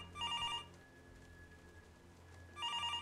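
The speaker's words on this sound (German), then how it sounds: "Ich glaube, das Telefon war unten" A telephone ringing in the horror video game Left to Rot, two bursts of bell-like trilling rings separated by a pause, fairly faint against a quiet room tone.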